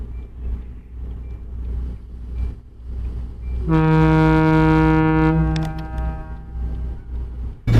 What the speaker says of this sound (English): One of the things that's unique about Locomotive 1860 is its horn. The horn is a foghorn.